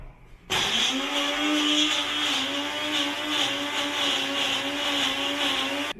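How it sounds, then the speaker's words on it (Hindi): A blender whirs on abruptly and runs at a steady, loud, high-pitched buzz, grinding ginger, garlic and onion continuously without pause. "अदरक लहसुन प्याज सब ब्लेंड कर लिया"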